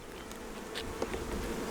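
Honeybees buzz steadily around an open honey production hive after a fume board has driven them down, a continuous close insect drone with no talking.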